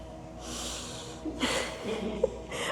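A few soft breaths and a sharp nasal snort-like exhale during a yoga pose for dancers, close and quiet, with a faint mumble underneath.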